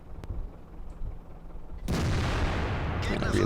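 A tank cannon fires in World of Tanks from a Pz. Sfl. V on the Malinovka map, a sudden heavy blast that leaves a loud, sustained rumble after a quieter stretch of engine hum.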